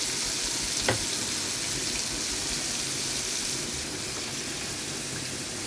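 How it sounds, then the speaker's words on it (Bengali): Steady, dense sizzling of lotka fish pieces being shallow-fried until crisp, a constant hiss filling the scene, with a single faint clink near the start and no voices. "এটা প্রত্যেকটা লটকা মাছের পিসে এভাবে একটা একটা দিয়ে ভালো করে মুচমুচে করে ভেজে নিব।"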